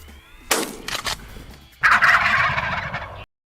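A turkey gobbles loudly and close by in short rattling bursts, then gives a longer harsh burst that cuts off abruptly into silence.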